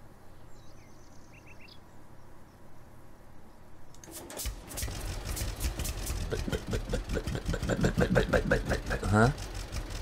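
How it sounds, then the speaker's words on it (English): A tractor engine idles and then rumbles to a steady running chug in the farming game Farmers Dynasty, starting faint amid birdsong and insects, then growing louder with a throbbing rhythm, with someone talking over it. "There is tractor."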